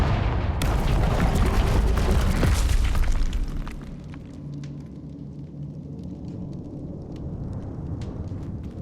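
A Confringo fire spell explodes in Hogwarts Legacy with a loud, roaring blast that rumbles for about three seconds, then thins into a crackling, debris-scattered decay with scattered pops.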